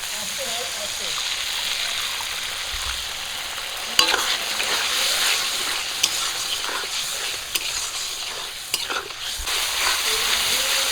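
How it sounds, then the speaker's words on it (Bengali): Masala spices mixed with water fry in a pan for an ilish fish dish, producing a loud, continuous sizzle and hiss with occasional scraping stirs and clicks throughout. "মশলাটা কিন্তু কষিয়ে নিচ্ছি আমি"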